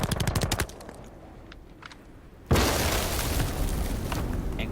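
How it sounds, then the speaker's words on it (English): Rapid bursts of gunfire, then a quiet pause and a sudden loud blast with debris from Buck's shotgun gadget in his elite skin animation in a video game. "Incorporates his shotgun gadget at the end, which is just beautiful, and it just shows how badass Buck is"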